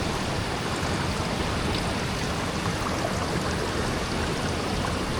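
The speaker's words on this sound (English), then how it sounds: "Let's go ahead and do a pan back." Gold panning in a stream with buckets of spring flood material gives steady, close water sloshing and rushing for the whole stretch, with no talk over it.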